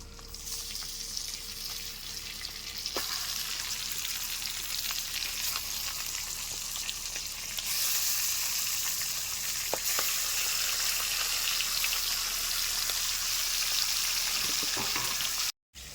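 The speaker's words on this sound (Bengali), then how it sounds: "এখন আমি মাছগুলি ভেজে নেব।" Pangas fish fry in oil rendered from the fish's own fat in a kadai, a continuous, fairly loud hiss of sizzling that swells partway through and holds steady, with an occasional clink.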